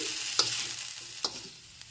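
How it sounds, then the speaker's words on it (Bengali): Vegetarian vegetable chop filling is stirred as it fries in a pan, with a soft sizzle and two distinct spatula scrapes against the metal. "এবার একটু ভালো করে নেড়ে চেড়ে নিচ্ছি"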